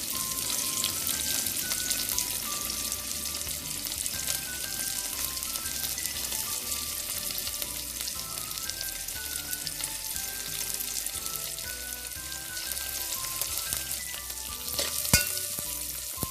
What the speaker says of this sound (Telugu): ఇప్పుడు మనం దీనిలో ఆవాలు, జీలకర్ర, జీరా అండ్ కరివేపాకు యాడ్ చేసుకుందాం.